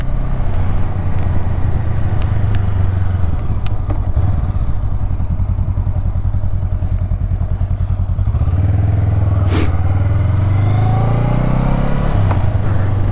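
A bobber-style motorcycle idles steadily after being started following winter storage, its low engine thrum constant and close, with occasional clanks and clatters on top.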